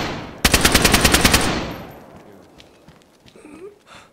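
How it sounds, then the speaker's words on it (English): A loud close burst of automatic gunfire in a video game, about ten rapid shots in a second, ringing out into a decaying tail with faint distant noises after. "He's shooting at us, bro."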